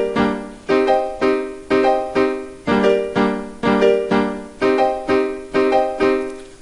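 Reggae piano plays a bubble pattern, offbeat skank chords with the left hand filling between them, in a steady, evenly spaced rhythm of sharp decaying stabs.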